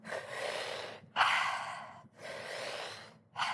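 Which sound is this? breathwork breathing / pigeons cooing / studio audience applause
breathwork breathing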